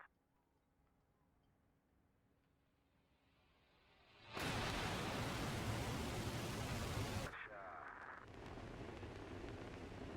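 Rocket launch in the space agency game Mars Horizon: quiet hum builds into a sudden loud roaring rumble for about three seconds, then drops to a steadier, softer rushing roar.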